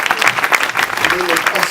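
A church congregation applauds to honor their pastor, a dense, steady clapping that fills the room throughout, with voices mixed into the crowd noise.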